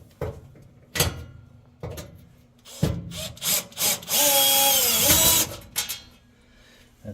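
A power drill backs out screws from a Samsung oven door, with a steady whirring run of about a second amid scattered clicks and knocks from handling the door.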